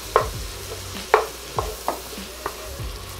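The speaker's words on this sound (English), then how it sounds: "while I am cooking and breaking up the bacon and the sausage, browning that" Bacon and sausage brown in a pan, a steady low sizzle broken by several sharp scraping knocks as the meat is stirred and broken up, close and distinct.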